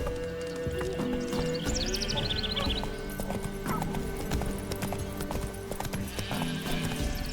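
A horse gallops while being ridden in the video game The Witcher 3: Wild Hunt. Steady hooves clip-clop under ambient game sound, and a brief whinny comes near the start.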